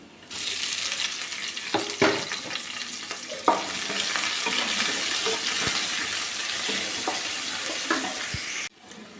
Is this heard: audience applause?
no